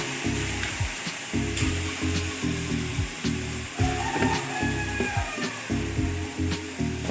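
Kachu bata (taro paste) with grated coconut frying in a pan, a constant close sizzle with rhythmic stirring scrapes and knocks of the spatula against the pan, no voices.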